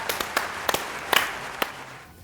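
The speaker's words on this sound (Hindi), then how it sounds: "ये बहुत सार्कास्टिक ताली थी जो आपने अभी बजाई" A single person claps a few sharp, sparse, sarcastic claps, unevenly spaced over about two seconds, close and dry, with no voices.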